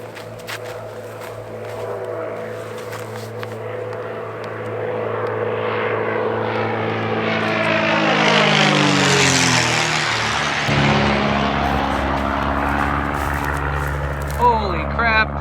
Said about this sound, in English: Like an old prop plane just flew like right over me, like buzzed right over my head.